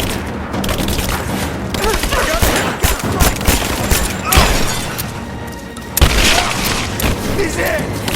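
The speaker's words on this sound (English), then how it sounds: "I'm under fire!" Gunfire in the video game Rise of the Tomb Raider, dense rapid bursts and booming impacts crowding close together, loud and continuous throughout, with a sharp extra blast near the end and voices mixed in.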